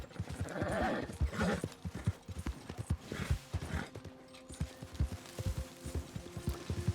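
A horse's hooves clip-clop steadily over ground in the Red Dead Redemption 2 video game, a brisk, even rhythm of close hoofbeats with light ambient background.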